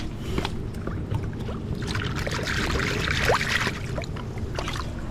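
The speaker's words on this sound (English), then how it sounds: "I think I can wash it." Water splashes and trickles steadily as a dirty item is rinsed by hand outdoors at a fishing cookout spot, a continuous close wash with no talking.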